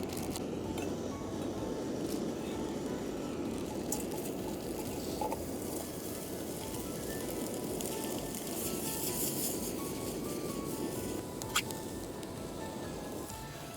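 Sausages with garlic, paprika and cumin sizzle in a pan at an urban stealth campsite, a steady, fairly soft crackling hiss that runs unbroken and close, with the odd faint clink.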